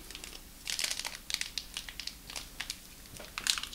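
Crinkly plastic yeast packet handling up close for home beer brewing, a series of irregular rustles and crackles with short pauses between them.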